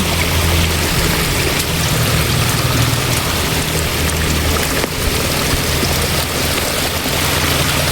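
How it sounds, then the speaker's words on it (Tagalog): Steady, loud rushing floodwater flows continuously near a bridge and buried stairs, a dense broadband wash with no pauses, like a fast torrent close by. "Oh, umagos yung tubig."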